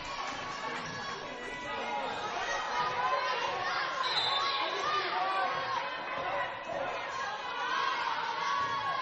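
Crowd at a college volleyball match at Schuckman Court, a steady hum of chatter, scattered shouts and cheers, with squeaks and thuds from the court and a commentator talking over it.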